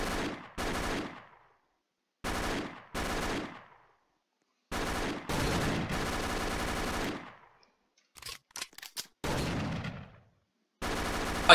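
Bursts of rapid gunfire in the ER:LC (Emergency Response: Liberty County) video game, aimed at a traffic light: several loud separate volleys with short silent gaps, a few quick single pops, then a final burst.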